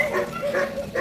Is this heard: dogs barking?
yes